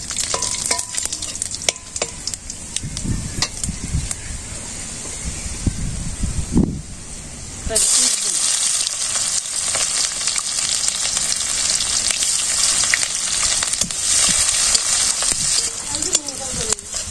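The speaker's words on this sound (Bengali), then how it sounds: "দারচিনি, গোলমরিচ, তেজপাতা তেলে দিয়ে দিই, আর জিরে দিয়ে দিই একটু" Cinnamon, black pepper, bay leaf and cumin sizzle in hot oil in a village-style kitchen for chicken curry, with stirring scrapes early on, then a loud, steady bright frying hiss that continues to the end.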